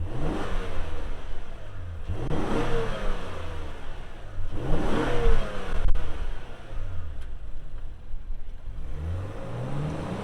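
Naturally aspirated V6 engine of a Nissan Pathfinder SUV revving repeatedly, close and loud, with several rising and falling swells over a steady idle rumble and no voices.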